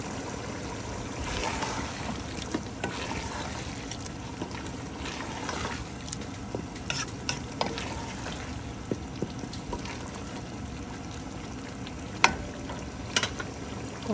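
Ground beef frying in a pan with baby potatoes, dill and soya, sizzling steadily and loudly close by, with scattered stirring clinks and scrapes over the crackle.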